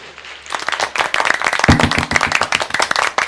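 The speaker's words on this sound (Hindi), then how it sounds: "अच्छा पहले एक बार 2-4 लोग तालियां बजाओ, फिर मैं शुरू करूं" Audience at a poetry recital breaks into loud, sustained clapping that starts abruptly and continues steadily, dense and close, with no talking over it.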